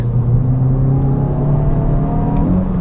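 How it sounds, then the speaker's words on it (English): Hot hatch engine, one of a Polo GTI, i20 N or Fiesta ST group, revving steadily at idle with a slight throttle blip near the end, a close, continuous low drone with no talk. "some ghost pressed the throttle and blipped it"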